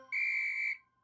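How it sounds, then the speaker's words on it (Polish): A cartoon whistle blown once: a single loud, shrill, steady tone lasting just over half a second, then cutting off to near silence, with no talking. "Dźwięk gwizdka jest głośniejszy niż dźwięk nożyc"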